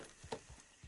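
Faint horse hooves clip-clop at a walking pace in a PS4 video game, a few soft, evenly spaced thuds under quiet game ambience.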